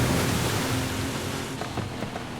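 A car splashes through water in Forza Horizon 5, making a dense, loud rush of spray and churning that slowly eases off, with no voices.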